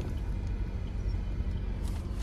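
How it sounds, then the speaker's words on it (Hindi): Engine noise heard inside the cabin of a 2022 Maruti Dzire VXI CNG car with the AC off: a steady low rumble and hum, moderately loud, with no talking. "कैबिन के अंदर भी नॉइज़ है, वाइब्रेशंस भी है इस गाड़ी में।"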